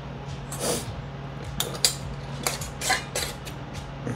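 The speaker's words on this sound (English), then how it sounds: "Now I will stick some lids on there." Lids go onto glass jars of preserved peppers, with a handful of short clinks and clatters scattered over a few seconds against a quiet background hum.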